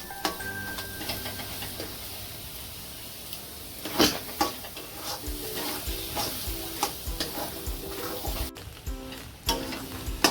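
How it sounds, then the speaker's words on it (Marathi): A spatula scrapes and stirs egg bhurji with onion and tomato in a sizzling pan. Steady frying hiss runs underneath, with repeated sharp clinks and scrapes at an uneven pace. "सारखं हलवीत राहायचंय, कारण बुर्जी व्यवस्थित खाल्लेली तरच व्यवस्थित सगळं मिक्स होतं आणि अंड जे आहे ते फ्राय होतं त्याच्यात."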